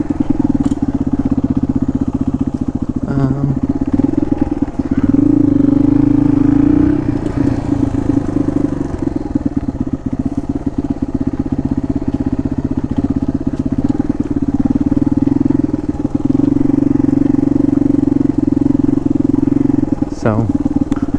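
Motorcycle engine running steadily and loud throughout as an adventure bike rides off-road along a grassy trail, with the drone rising and easing slightly at moments over about twenty seconds.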